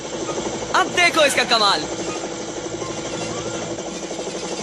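A cartoon helicopter helmet's rotor whirs steadily throughout, a continuous mechanical hum under a brief spoken line near the start.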